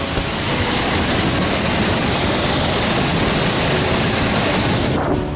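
An Icelandic waterfall roars in a steady, dense, unbroken rush of loud white-noise-like water, close and continuous throughout with no voices.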